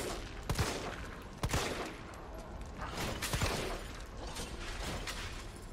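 Gunfire in the Resident Evil 3 demo: a few sharp shots spaced out over a low ambient rumble, with mechanical clicks and rattles between them.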